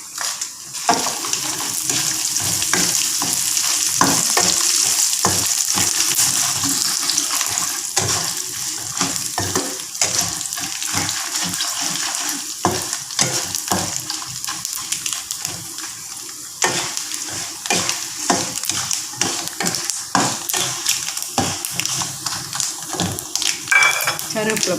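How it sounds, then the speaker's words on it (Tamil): Dried red chillies fry in hot oil for tamarind rice, giving a bright crackling sizzle broken by frequent clinks and scrapes of a spoon against the pan. "காஞ்ச மிளகாய் போடுறேன்."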